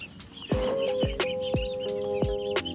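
A large chicken about seven weeks old clucks in a quick series of close, distinct calls, about one every half second, with farmyard sounds behind and no talking.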